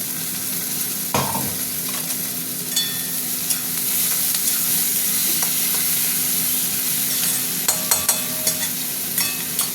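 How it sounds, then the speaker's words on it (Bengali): Prawns and onions fry in a hot pan, a constant loud sizzle punctuated by scattered clicks and scrapes of stirring, with no talking. "ভাজা ভাজা হোক, পেঁয়াজটা ভাজা ভাজা হয়েছে, চিংড়ি মাছগুলো দিয়ে দিলাম।"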